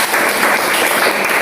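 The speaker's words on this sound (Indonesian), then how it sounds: "Kita beri tepuk tangan dulu" Children in a classroom give a short, loud burst of dense clapping that fills the space evenly without pause.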